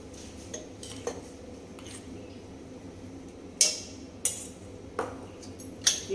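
A spoon stirs fresh cream into a pumpkin curry in a cooking pot, several sharp metallic clinks against the pan spaced irregularly over a soft background hiss, with no talking.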